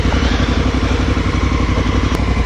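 Motorcycles ride off in the morning down the Banjar Valley in the lower Himalayas, a loud, close, steady engine rumble with throbbing low pulses and light clatter.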